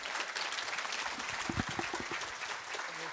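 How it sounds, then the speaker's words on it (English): A small audience at a network operators' conference applauds a speaker, a brief, soft patter of clapping at some distance that stays fairly even, with a few louder claps and some low voices partway through. "And a small round of applause,"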